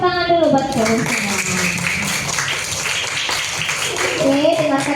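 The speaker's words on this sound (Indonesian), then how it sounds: "Oke, tepuk tangan dulu buat kamu semua." Children in a classroom clap together in a dense, steady burst of applause lasting throughout, with a woman's singing-like voice and children's voices over it at the start and end.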